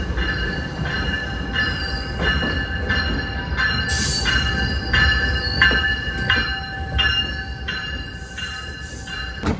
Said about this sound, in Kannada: ನೋಡಿ ಟ್ರೈನ್ ಬರ್ತಾ ಇದೆ ಅಲ್ಲಿಂದ.